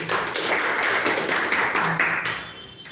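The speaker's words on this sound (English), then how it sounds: "So with a round of applause, please help me welcome Toastmaster Rohit." Audience at a Toastmasters club meeting applauding to welcome a speaker, a steady round of clapping at moderate level that thins and fades out toward the end.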